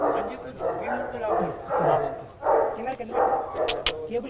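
Dogs barking and yipping on a farmhouse property, a burst of repeated barks coming in pulses over about four seconds, moderately close, with people talking over them.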